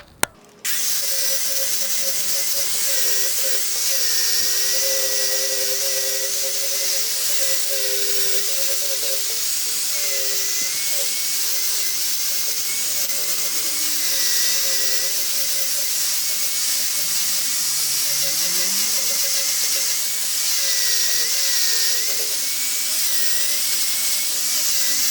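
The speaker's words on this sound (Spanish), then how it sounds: "ahí ya lo fuimos dejando la forma que más o menos queríamos con el disco de flap" A flap disc on an angle grinder sands a wooden knife handle fitted with rivets, a steady high-pitched whine held without a break, with pitch wavering slightly as pressure shifts against the wood.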